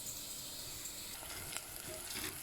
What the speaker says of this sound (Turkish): Kavrulsun önce soğanlarımız.